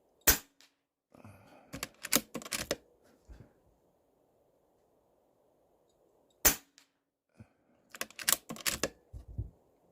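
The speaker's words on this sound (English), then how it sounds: "We're going to shoot a couple shots and then I'll adjust the scope." A Stoeger XM1 Scout PCP air rifle fires several shots outdoors, each a sharp close crack, spaced irregularly with short gaps and faint rustling and handling noises between them.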